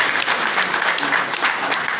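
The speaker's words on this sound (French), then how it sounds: "On applaudit très très fort." Applause from a ceremony audience closing a constitutional reflection commission's work, steady and fairly loud clapping throughout a short burst.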